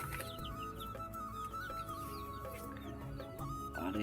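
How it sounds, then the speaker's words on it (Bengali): Chickens kept alongside pigeons cluck and murmur at moderate distance over a steady background hum, with several short calls overlapping. "এই মুরগিগুলো জ্বালাচ্ছে"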